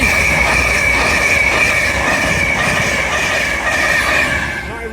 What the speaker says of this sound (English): Pass through now will be our final LNER Intercity 225 set from London King's Cross to Leeds.